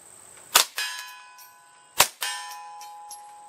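Two sharp Remington subsonic .22LR rifle shots fired at a 50-yard target, each a crisp crack followed a moment later by a ringing metallic clang of the bullet striking steel, with the ring fading out.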